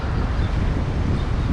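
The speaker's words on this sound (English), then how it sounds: "Oh, pretty windy out here on the pier." Strong wind buffeting the microphone on a pier in Thailand, a steady low roaring rumble throughout with no voices.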